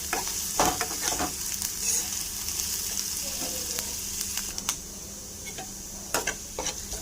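Chopped onion, green chili, ginger and garlic frying in a pan, a steady soft sizzle with occasional sharp clinks and stirring scrapes, close and fairly quiet.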